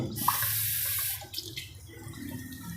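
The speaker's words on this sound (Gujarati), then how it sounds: "મસાલા આપણા મસ્ત પાકી ગયા છે હવે આપણે થોડુંક પાણી નાખીશું" Water pours steadily into a pot of cooked spices for Kathiyawadi dhokli curry for about a second, then tapers to softer splashing and trickling with light background noise.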